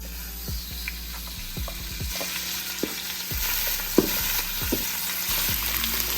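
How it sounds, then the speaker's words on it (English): Oxtails sizzling in oil in a ceramic non-stick pan, a steady close frying hiss with occasional soft stirring knocks and pops throughout, no voices. "we're gonna fry our oxtails for a little bit"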